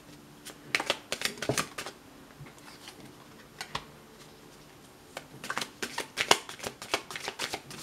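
Cards being shuffled for a tarot-style birthday card reading, in bursts of quick riffling clicks and flutters separated by short pauses, close and fairly quiet with no talking.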